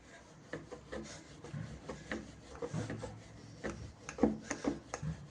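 Paratha dough, dusted with a little flour, being rolled into a round with a rolling pin: soft, irregular rubbing and light knocking of wood on the board, quiet and close.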